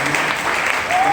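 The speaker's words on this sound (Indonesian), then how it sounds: "Boleh beri tepuk tangan dulu dong." Brief applause from the audience at a church youth revival event, a dense wash of clapping heard for about a second in a reverberant room.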